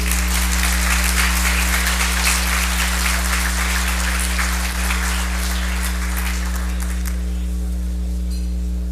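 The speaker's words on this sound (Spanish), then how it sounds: "para quien también pido un fuerte aplauso" Applause from a conference audience greeting former Bolivian president Jorge Quiroga, a dense wash of clapping that holds steady before thinning and fading out, over a constant low electrical hum.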